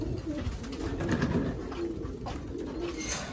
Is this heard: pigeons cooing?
yes